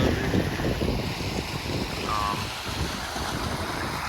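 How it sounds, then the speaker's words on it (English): Fast, high floodwater rushing along a rocky river channel in Pullman, Washington after heavy rain, a steady broadband roar with wind buffeting the microphone throughout. "You can see the water is really rushing really high."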